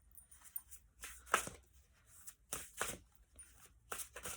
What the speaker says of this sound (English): then we'll shuffle these ones.